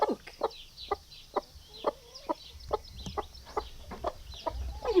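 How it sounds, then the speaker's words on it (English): A fluffed-up broody hen on a farm clucks in a steady series of short, fairly close calls about every half second, with soft background noise beneath. "she's really fluffed up and she's making that noise, so she is really obviously clucky"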